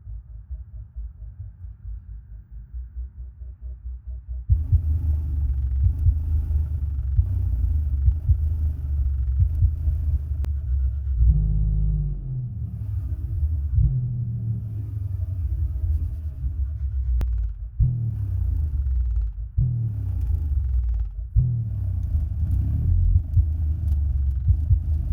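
Deep, booming bass from a Sundown Audio SA-12 V2 car subwoofer throbs loudly and continuously, with pulsing low notes shifting in pitch and a faint rattle riding on top.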